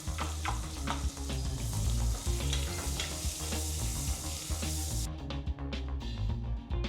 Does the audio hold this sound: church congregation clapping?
no